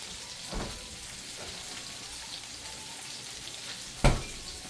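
Creamy mushroom gravy with powdered milk being stirred in a pan gives a steady, soft sizzle throughout, with a couple of sharp scrape or clatter accents near the start and toward the end; no talking.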